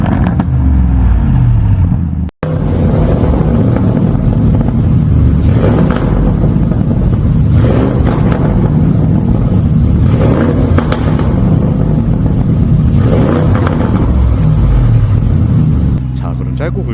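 A tuned V8 exhaust on a Lamborghini Urus S with the sound turned up to maximum, a deep loud rumble with repeated revs swelling and falling, a brief cut near the start, with talk running over it.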